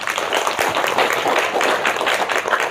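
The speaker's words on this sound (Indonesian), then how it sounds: "Coba tepuk tangan dulu." An audience claps together in a continuous, dense burst of applause lasting a few seconds at a steady level, with no voices over it.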